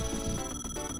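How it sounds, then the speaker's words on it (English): Ring-collect chime from the video game Sonic 3D Blast, a bright, metallic, bell-like ping that rings out several times in quick succession over a dense, steady bed of game music, loud and close. "I'm just gonna get really sick of this ring noise."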